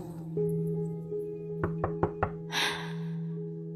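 Four sharp knocks on an apartment door on the ninth floor of a luxury building, evenly spaced and fairly close, over a steady low hum, followed by a brief hiss of noise.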